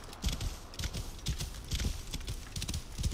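Horse hooves galloping in the video game Assassin's Creed Origins, a fast, steady run of close, clear clip-clop beats that continues throughout with no voices over it.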